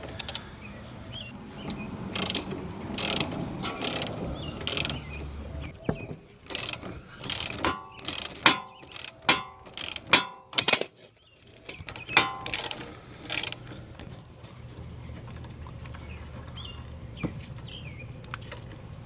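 Hand ratchet fitted with an extension clicking rapidly in bursts while loosening a rear shock bolt on a 2013-2016 Dodge Dart, close and crisp with short pauses between runs.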